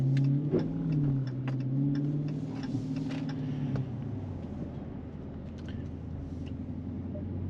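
A 2020 Dodge Challenger R/T cruises through a neighborhood, its engine a steady low rumble heard from inside the cabin, rising and easing slightly, with no talking.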